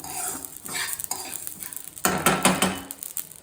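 Poppy seeds dry-frying in a pan for homemade garam masala, stirred with a spoon that scrapes and clinks against the metal, with a louder burst of stirring midway and a faint sizzle underneath.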